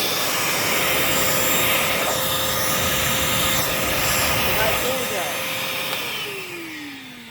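A Vacmaster 2.5 gallon, 2 horsepower shop vacuum runs with an attachment fitted on its exhaust, blowing a loud, steady whooshing roar that eases off and drops in pitch near the end.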